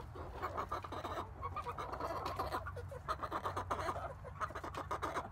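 Chicks in a newly finished chicken coop chatter constantly, a dense close run of peeping and clucking calls with no talk over them.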